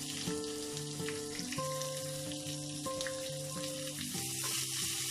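Onions hiss and crackle as they fry with chana dal in a pan for a Mysore masala dosa filling, a steady close sizzle over a background of sustained musical tones.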